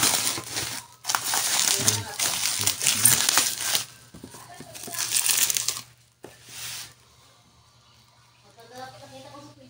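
Loud bursts of plastic packaging crinkling and crumpling as a parcel of safety shoes is unboxed, in several close rustling spells with short pauses, followed by quieter handling and a voice speaking near the end.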